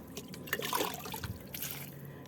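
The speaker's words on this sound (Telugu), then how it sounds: "ఇప్పుడు నీళ్ళు ఇస్తున్నా కొంచెం దీనికి," A small amount of water is poured onto a potted flowering plant, heard as a faint, brief trickle and splash into the soil, close and quiet.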